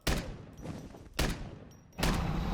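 Three loud, booming blasts from rockets detonating in Minecraft, each a sharp impact followed by a rumbling decay, spaced about a second apart.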